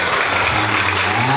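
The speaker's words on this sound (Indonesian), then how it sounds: "Tepuk tangan untuk kita semua." Audience applause at a children's Quran graduation event held in a mosque: steady, dense clapping close by, with a low hum of voices underneath throughout the short burst.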